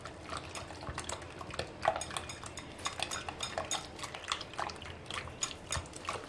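Hands mixing brioche dough with fennel seeds in a bowl, producing soft, irregular scraping and light clinking against the bowl, close and fairly quiet, with no voices.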